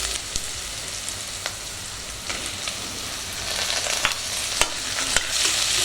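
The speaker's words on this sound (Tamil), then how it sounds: "தக்காளி போட்டுட்டு அதை நல்லா வதக்குங்க" Chopped tomatoes fry with browned onions in a pan for a chicken biryani, a continuous close sizzle broken by occasional clinks and scrapes of stirring.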